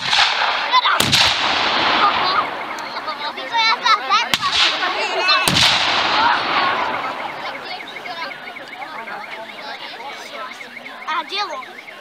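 Artillery gun firing during a 1944 battle reenactment, with three sharp, loud booms echoing in the open air over a steady background of crowd noise and faint voices.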